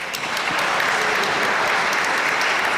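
Sustained applause from an audience filling a hall at a Glasgow community councils seminar, dense steady clapping throughout with no pauses.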